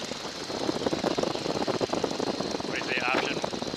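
Boeing N2S-3 Stearman biplane engine throttled back to about 1,400 RPM, a steady rough radial drone with wind rush filling the cockpit, a brief voice-like warble near the end.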